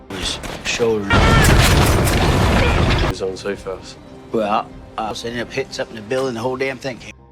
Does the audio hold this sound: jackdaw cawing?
no